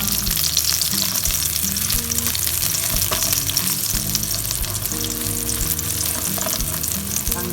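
Garlic sizzles steadily in hot oil in a pan, a loud, continuous close-up frying hiss with small crackles and no pauses or voices.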